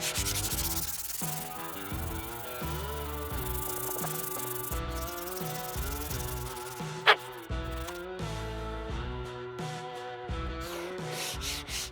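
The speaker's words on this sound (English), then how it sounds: "we're going to start off with a bit of sandpaper because this will allow us to much easier see where all the high spots and the valleys are" Sandpaper rubs steadily across the hardened steel face of a cheap anvil being resurfaced, a continuous scratchy scrubbing heard under loud background music.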